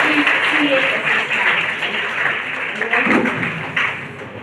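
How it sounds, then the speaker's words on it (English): An audience at a university book release gives sustained applause, a broad, steady rush of clapping while a voice speaks over it. "Can we give a big round of applause to CASS?"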